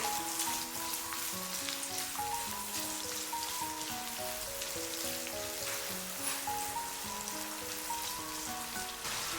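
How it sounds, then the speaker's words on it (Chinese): Scallion, garlic and small chili peppers stir-fry in a hot wok for dry-pot cauliflower, giving a steady, close, crackling sizzle throughout with soft background music playing underneath. "下入葱蒜、小米椒，快速的给它翻炒"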